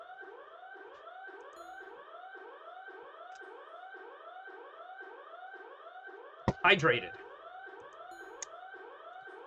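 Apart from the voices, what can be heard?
alarms in video game Doki Doki Anomaly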